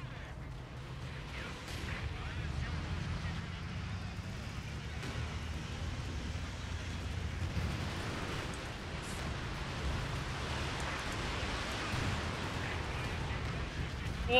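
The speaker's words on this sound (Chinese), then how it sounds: "他们又轰了，他们又炸了。" Artillery shelling and explosions from the war game Company of Heroes 2 form a constant low rumble with scattered dull booms and blasts throughout, a dense battle din that never lets up.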